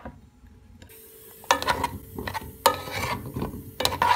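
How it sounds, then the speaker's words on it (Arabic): Onions frying in ghee in a pot for Lebanese moghrabieh, a soft sizzle with sharp clinks and scrapes of stirring breaking in at intervals. "بحط السمنة بالطنجرة والبصلات، بقليهم شوي"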